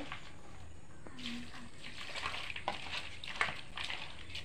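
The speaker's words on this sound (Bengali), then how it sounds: "এখন আমি জলটা ঢেলে দিলাম আলুর ভিতর, কাটা আলুর ভিতর।" Water poured over cut potatoes in a bowl to wash them: a continuous close splashing wash of water with small knocks and swirls, no voices.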